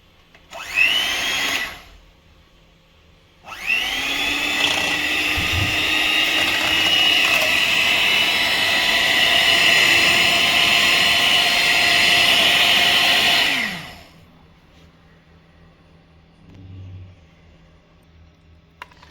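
An electric churning machine whirs loudly and steadily for about ten seconds making lassi after a short initial burst, then cuts off, leaving quiet room noise.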